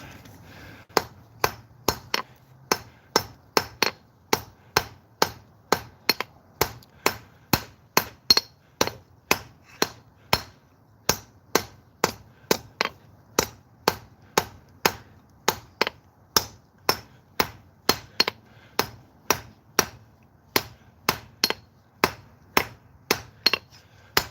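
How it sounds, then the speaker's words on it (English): Sharp metallic hammer blows ring out on an anvil in a steady, evenly spaced rhythm, dozens of crisp strikes close up with quiet gaps between them. "That's the side of the hammer I want."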